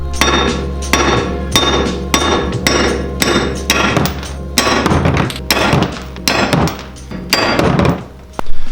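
Heavy blows from a 3-pound hammer knock out Toyota Supra wheel studs in a steady, irregular series of about fifteen loud, close metal impacts, each ringing briefly before the next.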